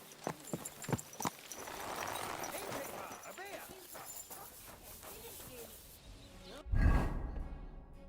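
Horse hooves clip-clop in a video game, a quick run of close hoofbeats over a low ambient bed, ending in a sudden loud deep burst.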